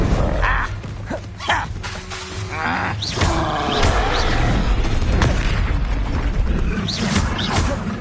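A Bombarda blasting spell in Hogwarts Legacy bursts with loud booming impacts and rumbling debris, a dense, heavy explosion texture sustained over several seconds with whooshing magical effects.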